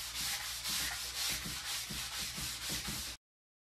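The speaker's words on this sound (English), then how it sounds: "We need a sanding sponge, any kind of sponge really. Work that into the grain." Steady rhythmic scrubbing of a sanding sponge rubbing finish into ash wood, even strokes repeating about every quarter second, close up, then abrupt silence.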